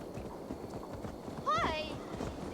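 Horse hooves clip-clop in a steady walking rhythm in Assassin's Creed Valhalla, close and moderate, with a horse whinny midway and speech over the top.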